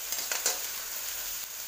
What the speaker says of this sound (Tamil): இதெல்லாம் சேர்த்து நல்லா வதக்கிட்டுக்கலாம்.